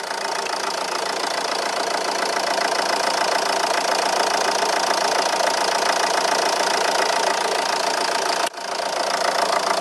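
A Ford engine with nearly half a million kilometres and no rebuild idles in a steady, dense mechanical drone with a faint rhythmic tick. It dips briefly near the end, then resumes.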